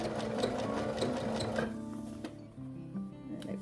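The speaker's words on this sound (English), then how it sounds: "you want to go back and forth over that a little bit" Sewing machine stitching an insulated roman blind, a steady rapid mechanical whir with ticking needle strokes, close and continuous, slowing and stopping partway before resuming softly.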